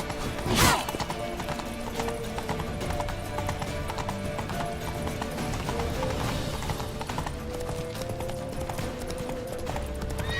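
Galloping hoofbeats from a horse in The Witcher 3, a quick steady clip-clop beneath game music and ambient effects, opening with a sharp burst and occasional whinnies, little talk.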